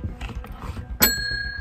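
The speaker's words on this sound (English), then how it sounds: "Wait, someone rang the bell?" A single bell rings out sharply once in a classroom, its tone lingering and slowly fading, over faint room noise and shuffling beforehand.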